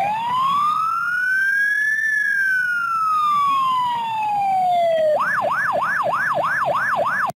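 Police car siren, a long rising and falling wail that switches to a fast yelp pattern, loud and steady throughout, heard alone without voices.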